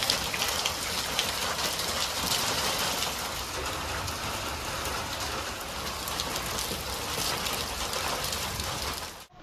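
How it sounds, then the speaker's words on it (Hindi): Steady rain patters continuously on surfaces, a dense even hiss without pauses, close and moderately loud. "बारिश अभी भी लगातार लगी हुई है"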